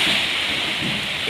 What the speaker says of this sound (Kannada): ನೋಡಿ ಈಗ ಹೆಂಗಿದೆ ನೋಡಿ ಗುಡುಗು ಮಿಂಚು